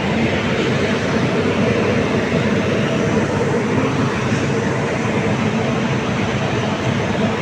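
A loud, steady rumble of the Mayiladuthurai–Coimbatore express train running close by at Erode junction, continuous and unbroken throughout.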